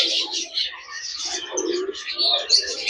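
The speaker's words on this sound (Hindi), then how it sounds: "इसके अंदर में बहुत सारी चिड़िया हैं, बहुत सारी" Many small colorful birds with parrot-like beaks chirp and call inside an aviary at Bal Bhavan in Delhi, a busy twittering chorus heard at moderate distance with people talking nearby.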